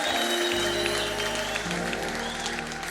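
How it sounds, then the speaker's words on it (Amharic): A church congregation claps loudly and steadily during worship for Jesus, a dense, continuous wash of hands, likely mixed with ululation, with a sustained musical drone underneath and no break over a few seconds. "ከፍ ያለ ጭብጨባ እልልታ ለኢየሱስ ክብር።"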